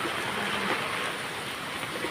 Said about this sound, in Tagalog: Ayan, umulan na naman po.